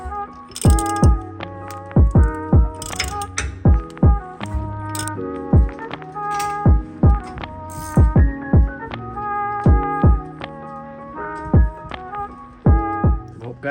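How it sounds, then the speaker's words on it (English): Ratchet working spark plugs out of a Nissan S14 engine, a long string of sharp metallic clicks and knocks in uneven bursts, with the tool's ringing rattle close up and loud. "Time to get the spark plugs out."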